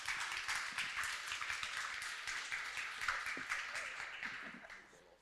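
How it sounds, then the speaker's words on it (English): A summit audience applauds as a corporate panel takes the stage, many hands clapping in a brisk, moderately distant patter that thins and fades toward the end. "Can we give them a round of applause, please?"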